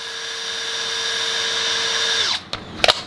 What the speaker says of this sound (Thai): เปิดโหมดเดียวกันเลยสว่านธรรมดานะครับฟังเสียงนะ